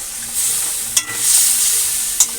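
A small splash of water hits hot spices frying in a pan, giving a steady bright sizzle with a couple of sharp spatters and a brief stir, close up and with no talking.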